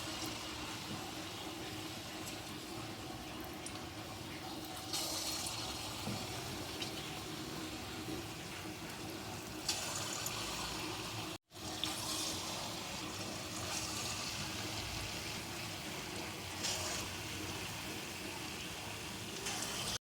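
Small palm fruit fritters (taler bora) deep-fry in hot oil on a low flame, producing a steady, moderate bubbling hiss with one short break partway through.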